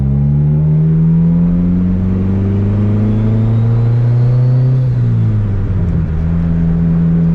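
Turbocharged Honda Civic with a full exhaust and Evil Energy muffler revs up close by in a loud, deep drone that rises steadily, then drops and settles back near idle toward the end.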